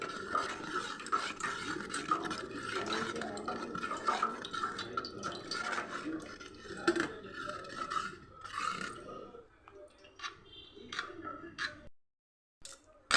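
Liquid trickles and drips steadily through a strainer with soft wet gurgling and squelching, then slows into a few scattered drips before falling quiet.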